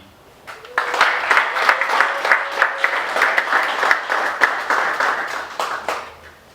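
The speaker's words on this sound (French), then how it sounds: "je nous demande de nous applaudir" A gathering of the Mutuelle des Médecins Chirurgiens Dentistes applauds itself with rhythmic, fairly close clapping from a modest group. The clapping starts abruptly, pulses steadily and fades out near the end.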